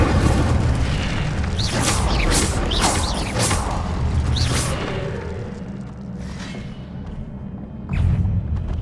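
Spell effects from the Hogwarts Legacy video game, with Incendio, Levioso and Accio cast in quick succession: a dense run of booming impacts, whooshes and crackling bursts, loud and continuous, easing slightly toward the end before a final thump.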